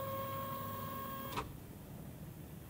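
A Prusa MK3S 3D printer whirs with a steady motor drone and high tones as its platform travels back to the home position, ending in a brief clunk before a quieter hum continues alone.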